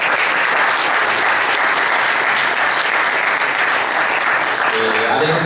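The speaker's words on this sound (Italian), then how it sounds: "voglio fare un applauso" Audience applause at a public talk in Italy, loud and sustained with dense continuous clapping throughout.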